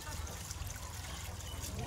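Water poured out for washing up, a continuous trickling and splashing stream heard at low level, with voices talking in the background throughout.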